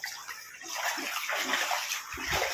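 Floodwater from a risen river spills over into a home garage, a steady, rushing wash of running water that holds on throughout, with a low slosh near the end and no talking.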